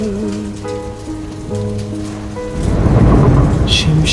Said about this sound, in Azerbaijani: Elə coşub təbiət, elə yağır ki yağış.